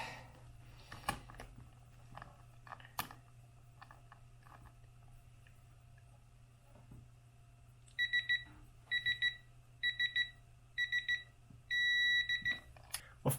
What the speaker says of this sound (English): When you hear the solid beep, it's properly attached.